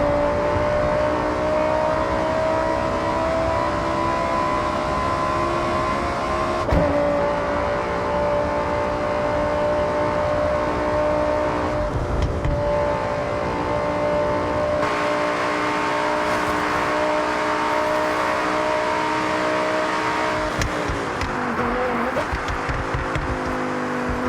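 Lamborghini Huracán with its engine held at high revs for a long, sustained, loud drone, pitch climbing and dipping between gear changes, heard up close without talk.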